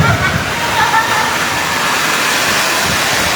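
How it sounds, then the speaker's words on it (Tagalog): Heavy rain with strong wind pours down in Muzon, Taytay. A loud, dense, continuous roar of water fills the whole stretch. "Lakas ng ulan dito sa Taytay, sa Muson."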